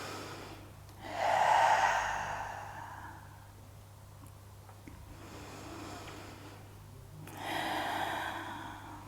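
Two slow, audible in-breaths during a gentle prenatal yoga exercise, one early and one near the end, soft and close with a quiet steady hum underneath.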